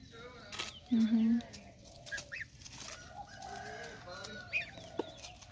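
High, thin peeping calls from goslings come in short bursts, with a louder call near the start, over background chatter and ambient noise.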